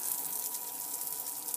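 A steady stream of water hisses from the tap of a pressurized water tank, a constant rushing flow at moderate volume with no pauses.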